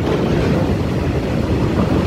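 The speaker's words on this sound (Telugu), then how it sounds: "ఎట్లా గాలి వస్తుంది?" Strong wind buffets the microphone near a railway station, making a loud, constant low rumble with no pauses.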